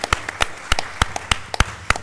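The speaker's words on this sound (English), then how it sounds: "you want applause for that?" A small audience at a mayors' roundtable in Polk County gives brief applause for the county commission, a sparse run of individual, distinct claps at a quick, uneven rhythm, heard close and with no talking over it.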